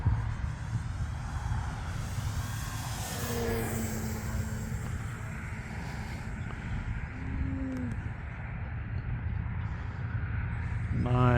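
A radio-controlled Mamba model airplane makes a pass at about half throttle, its engine buzzing steadily with a rising and falling pitch as it flies by, at moderate distance against outdoor background noise.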